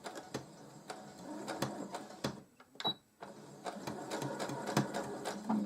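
A sewing machine stitches a seam through denim for a rustic pallet-wood lap desk, running back and forth in steady bursts with a brief pause midway, close and moderately loud.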